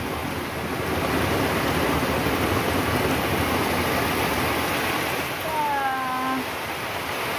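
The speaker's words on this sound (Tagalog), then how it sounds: "Grabe yung ulan, lakas." Heavy rain pours steadily as a dense, continuous hiss of water at night in the Philippines, with a brief tonal sound near the end and no speech.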